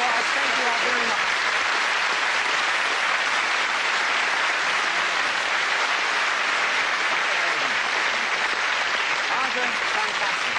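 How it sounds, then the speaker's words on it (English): A studio audience applauds a mathemagician's act, dense steady clapping that fills the whole stretch at a loud, even level with no pauses. "let's give them a nice round of applause"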